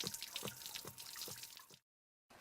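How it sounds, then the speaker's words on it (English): Water drains steadily from a Suburban water heater tank after anode rod removal, a faint continuous splashing and trickling that stops abruptly. "remove the rod to allow the water to drain from the tank"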